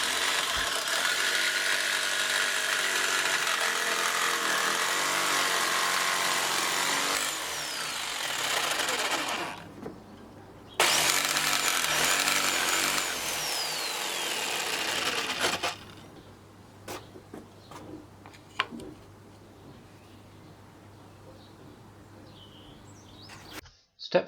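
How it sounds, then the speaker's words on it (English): A power jigsaw cuts a wooden disc for a homemade garden line marker, a loud buzzing rasp that runs for several seconds, stops briefly, resumes, then gives way to scattered knocks and clatter as the work settles. "Now use a jigsaw to cut the disc from the teeth."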